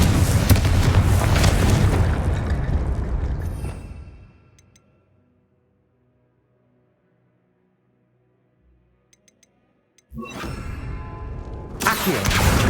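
Booming Confringo spell explosion in Hogwarts Legacy, a loud sustained blast that rolls and fades over several seconds into near silence, followed by another sharp burst of loud action.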